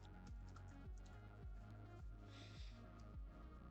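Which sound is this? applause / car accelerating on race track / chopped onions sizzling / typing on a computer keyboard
typing on a computer keyboard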